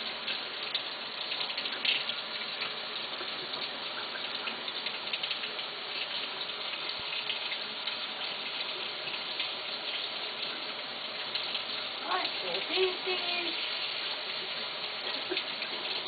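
A green guenon monkey bathing in water, with steady running and splashing water that stays even throughout, plus a few brief louder splashes, heard at moderate distance without voices.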